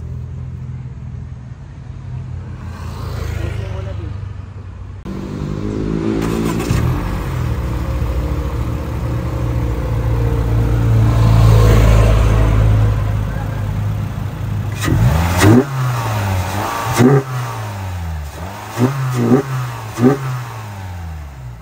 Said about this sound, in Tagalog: So buksan ko lang engine guys.